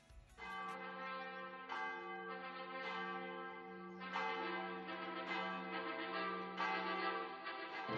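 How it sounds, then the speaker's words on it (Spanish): Church bells ring at the church in El Paso, Canary Islands, a series of rich resonant strikes that overlap into a sustained humming wash, heard clearly at moderate distance with no talking. "Se escuchan las campanas en la iglesia del Paso"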